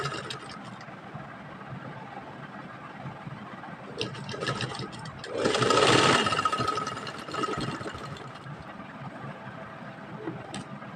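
An electric sewing machine stitches a coat collar, a steady mechanical whir and rattle that swells louder for a couple of seconds in the middle before settling back to a lower running hum.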